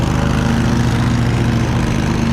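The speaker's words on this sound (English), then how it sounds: "hopefully y'all can hear me over the mower" A lawn mower runs steadily nearby on a rainy day, a loud, constant droning engine hum with a low rhythmic pulse and no talking over it.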